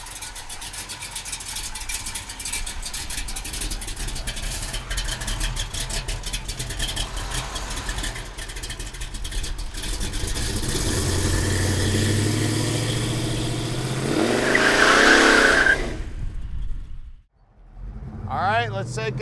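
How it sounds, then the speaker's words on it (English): A 1971 Chevrolet Chevelle's V8 exhaust rumbles steadily under someone talking, swelling louder as the car pulls and accelerates, then dropping off abruptly near the end. "the exhaust is sounding awesome, and she is making power"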